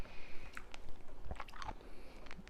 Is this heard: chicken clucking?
no